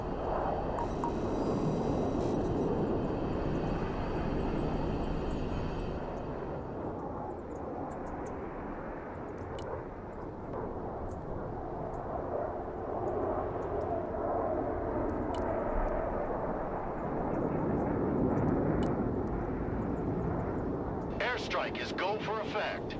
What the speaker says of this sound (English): This plane is equipped with a laser designation pod and smart bombs.